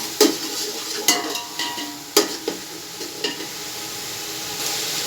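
Ginger, garlic and green chili paste frying in a pan, sizzling steadily beneath occasional sharp scrapes and clinks of a stirring utensil against the metal, close and moderately loud.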